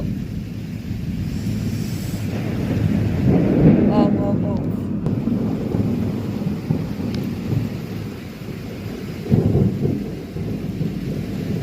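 Steady rain with a low rumble of thunder through much of it, broadband wash throughout, in Warangal; a voice speaks briefly in the background.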